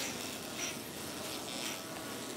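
Buckfast honeybees buzz steadily at an open wintering hive, a dense continuous hum with gentle swells, close and fairly loud, with no voices.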